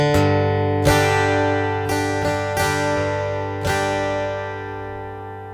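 Part of a song on acoustic guitar, a handful of strummed chords spaced about a second apart, each left ringing and sustaining, close and solo.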